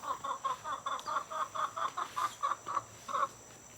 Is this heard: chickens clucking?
yes